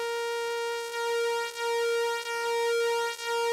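A Roland System 8 synthesizer holds a steady sustained tone with oscillator 2 brought in, bright and harmonically rich, with a slight pulse at regular intervals, close and alone.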